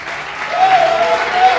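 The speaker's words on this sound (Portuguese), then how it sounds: "Você pode aplaudir Jesus?" A church congregation applauds during a pastor's sermon, a short dense burst of clapping from a crowded room, with a voice sounding faintly over it.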